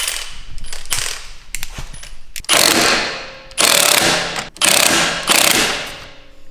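A breaker bar works on the piston nut of a Bilstein B8 shock for a Golf Mk7 Sportwagen, giving a few loud, close, harsh bursts of ratcheting mechanical clatter separated by short pauses.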